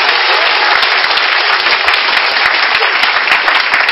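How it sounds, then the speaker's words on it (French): Loud, sustained applause from a church congregation acclaiming Jesus during a service, steady dense clapping throughout with no pauses. "Est-ce qu'on va acclamer Jésus?"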